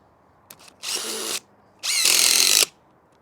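DeWalt drill with a MAX FIT bit adapter driving a fastener into a log: a brief tap, then two close whirring bursts of the motor, the second longer and louder.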